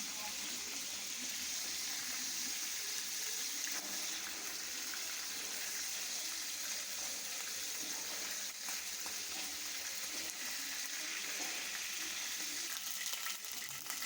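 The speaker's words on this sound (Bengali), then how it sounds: "এবার কড়াইতে তেল দিয়ে চিকেনটা খুব ভালোভাবে ভেজে নিচ্ছি" Chicken pieces fry in oil in a kadai, giving a steady, broad hiss of sizzling that holds evenly throughout, with no talking.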